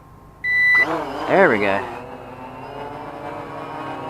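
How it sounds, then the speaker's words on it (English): An X16GPS drone arms with a short beep, then its motors spin up into a rising whine and settle into a steady buzzing hover hum close by, with a voice speaking briefly. "I'm going to stand back now and arm the motors. Do the one button takeoff"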